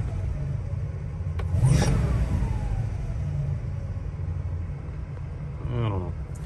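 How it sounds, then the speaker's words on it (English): A 1964 Chevy Nova survivor car idles low, its engine a steady, close rumble with a brief swell in the middle. "There's a low idle."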